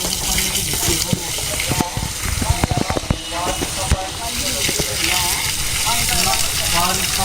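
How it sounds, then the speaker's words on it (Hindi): Water is poured over a stack of bricks to cure them, giving a loud, hissing gush with spattering bursts, while people talk over it. "तो यहाँ पे ईंटों की तराई करनी होती है ज़रूरी, पानी डालना होता है ज़रूरी।"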